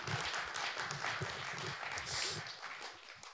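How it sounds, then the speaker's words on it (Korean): Applause from a Korean talk-show studio audience, a dense steady wash of many hands clapping at moderate distance, lasting throughout with no break. "우리 정말 박수 한번."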